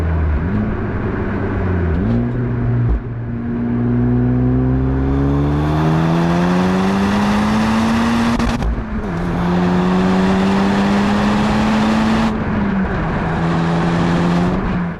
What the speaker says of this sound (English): you can hear the engine. There's a bit of bass to it. You can actually hear the turbocharger a little bit there